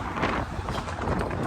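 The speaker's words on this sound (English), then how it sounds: "I do apologize about the wind, because it is windy today." Steady wind buffets the microphone beside a railway line in Plant City, Florida, a constant rumbling roar that fills the whole moment with no pauses.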